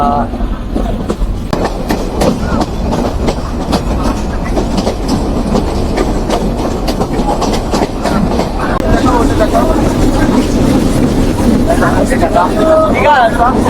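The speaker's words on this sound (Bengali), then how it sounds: "আমাদের ট্রেনটি চুয়াডাঙ্গা রেলওয়ে স্টেশন থেকে আবার ছেড়ে দিয়েছে" The Rupsha Express pulls out of Chuadanga railway station in Bangladesh, loud and close from inside the carriage, with steady wheel rumble and clickety-clack and a faint squeal, under a murmur of passengers and a voice talking.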